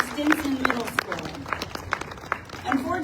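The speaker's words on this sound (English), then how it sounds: "how about a round of applause" Applause from an audience at an outdoor Alamo commemoration ceremony honoring a state police honor guard and middle school students, a scattered clatter of claps with a voice speaking over it.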